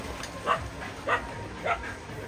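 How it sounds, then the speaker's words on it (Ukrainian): A small dog gives three short yips at an even pace, moderately close, over a faint steady background hiss, at the seaside in Odesa Oblast. "А ти що гавкаєш"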